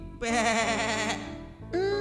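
Sheep bleating in a dark place, two long wavering bleats close by, the first drawn out over about a second and a second starting near the end, with no talk.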